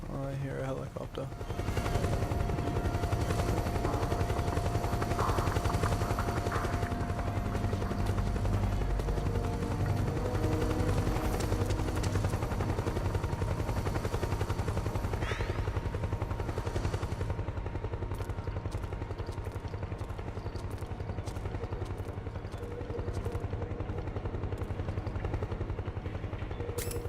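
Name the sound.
helicopter flying, from a video game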